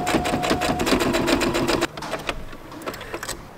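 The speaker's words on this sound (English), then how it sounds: "I'm going to use a sewing machine, and I'm just going to run a stitch line along the edges where I have pinned" A sewing machine runs a stitch line along the pinned edges of a T-shirt, a loud, fast, even mechanical chatter up close that stops abruptly, followed by a few lighter clicks and handling sounds.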